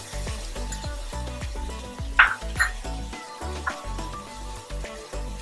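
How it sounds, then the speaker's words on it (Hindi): Vermicelli sizzles and fries in a pan as green chili sauce goes in, with a continuous close crackle, a couple of sharper louder hisses midway, and faint stirring clinks beneath. "अब मैं इसमें ग्रीन चिली सॉस डालूंगी"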